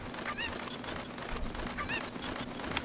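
Chickens (cuccos) in the video game Zelda: Ocarina of Time, a few short squawking clucks over a busy bed of game music and noise.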